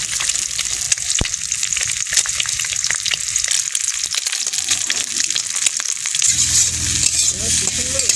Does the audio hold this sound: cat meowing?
no